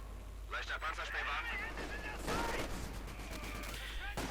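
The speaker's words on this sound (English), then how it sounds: "Nice shooting, Dieter." Gunfire and explosions from the video game Company of Heroes 2 crackle steadily in bursts, with sharper volleys and blasts mixed into a busy battle din while voices talk over it.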